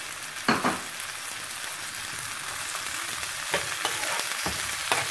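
Green chillies and tomatoes for chicken keema fry in a pan with a steady, close hiss of sizzling, broken by a few brief stirring clacks.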